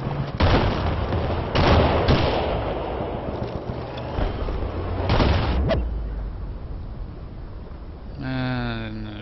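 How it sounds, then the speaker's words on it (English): Shotgun blasts and a tank blowing up in a military shooter video game: heavy booming bursts near the start, middle and around five seconds over a constant rumbling battle din, ending with a short warbling tonal sweep. "Let's go see if we can't shotgun or blow this tank up."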